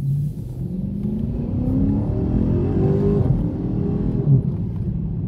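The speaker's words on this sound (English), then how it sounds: "you can still hear that engine" A 2016 Chrysler 300 SRT engine revs steadily, its rumbling pitch climbing and holding, loud and close, with no voices.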